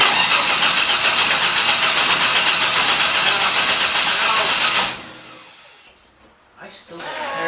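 A Ford Fairmont Futura fitted with a Vortec 4200 engine cranks on the starter, a loud, steady rhythmic churning for several seconds before cutting off, then a quieter pause with faint background noise.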